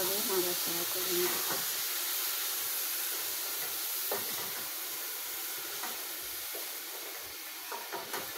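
Mixed vegetables with cut potato sizzle and hiss in a pan, with a few stirring clinks and scrapes early on, moderately loud and close; the frying settles to a steady hiss.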